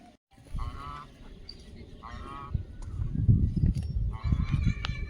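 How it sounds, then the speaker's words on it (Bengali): Ducks by a pond that is nearly drying up give honking, quacking calls in three clear bursts, close and fairly loud over a low rumbling outdoor background. "জলের মধ্যে হাঁসগুলো খুব মজা করে থাকে"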